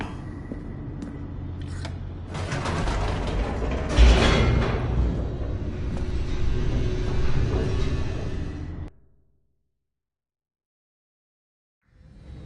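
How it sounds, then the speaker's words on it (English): An elevator in The Stanley Parable racing downward, heard as a continuous mechanical rumble and creaking that builds, peaks with a thud partway through, then cuts off abruptly into near silence before a faint return. "The elevator raced downward,"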